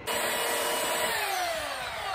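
A power sander on a new wooden deck runs steadily and loudly for the whole stretch, a continuous whirring grind with a faint falling whine, no voices.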